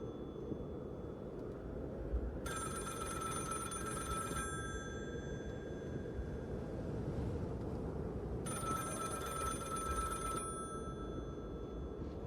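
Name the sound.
telephone ringing in the video game The Cabin Factory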